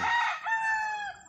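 A stag rooster crows once nearby, a short bright cock-a-doodle call lasting just over a second with a slight break midway.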